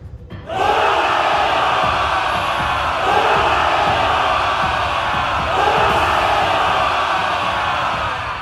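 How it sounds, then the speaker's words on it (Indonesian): Two armies clashing in an audio drama roar with massed cheering and battle cries, a loud, sustained wall of shouting voices that swells in waves after a brief quiet start. "Sorakan kedua pasukan menggema. Wilayah pertempuran bergetar yang membuat nyali ciut mendengarnya."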